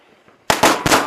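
New Year firecrackers going off close by, three sharp loud bangs in quick succession after a moment of faint background voices.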